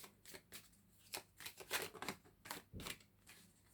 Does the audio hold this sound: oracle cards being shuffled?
yes